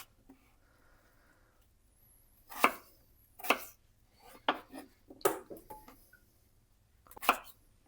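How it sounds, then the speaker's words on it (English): Potatoes are diced with a knife on a cutting board, giving about seven sharp, close chops at irregular intervals over a quiet background. "I'm going to chop my potatoes into little diced pieces."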